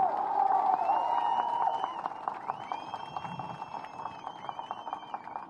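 An audience at a TDP political meet-and-greet applauds and cheers, a dense burst of clapping that thins into scattered claps, while a speaker's amplified voice carries over it.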